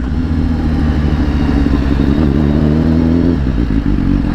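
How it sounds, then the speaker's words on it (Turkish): A motorcycle engine runs loud and steady, shifted without the clutch under a slight blip of throttle. The revs dip and change pitch near the end as the gear goes in. "Yani debriyaja basmadan atıyorum da gaza bastım biraz."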